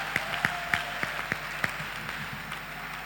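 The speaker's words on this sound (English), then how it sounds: "Please give a round of applause for him" Scattered claps from a sparse audience at an NBA SLP conference session in 2023, a handful of distinct, fairly faint hand claps over a murmuring room that tail off after a couple of seconds.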